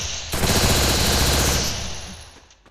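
Automatic gunfire in the mobile battle game Free Fire: one loud, dense rapid-fire burst lasting about a second and a half, then quickly trailing off, with no talk.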